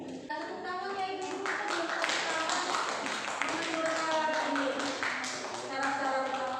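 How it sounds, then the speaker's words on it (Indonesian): A group of participants at a teachers' workshop session clapping their hands, a quiet patter of scattered claps mixed with voices talking. "Tepuk tangan ya Ibu."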